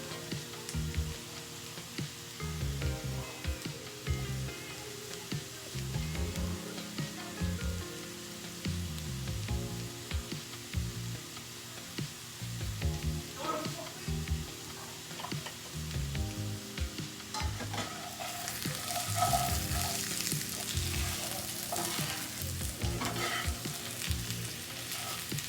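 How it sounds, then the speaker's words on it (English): Potatoes and garlic fry in a pan with a steady sizzle and occasional stirring, partly masked by background music throughout; the frying grows brighter and louder near the end. "We're going to put some of the garlic in there"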